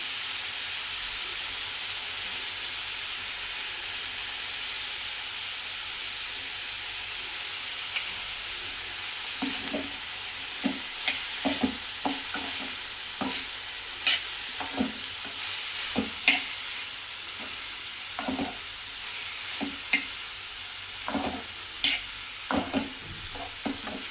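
Green beans fry in a pan for a curry with a steady, fairly quiet sizzle. Spatula stirs and scrapes break in at irregular intervals in the second half.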